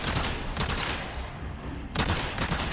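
Gunshots fired at Ganados in the Resident Evil 4 video game, dense loud bursts of fire that drop briefly to a quieter stretch before a second heavy volley resumes.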